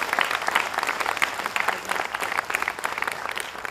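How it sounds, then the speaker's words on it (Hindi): Loud, sustained applause from a theatre audience for the actors of a stage play, dense clapping filling the whole stretch without pause. "इनके लिए जोरदार तालियां।"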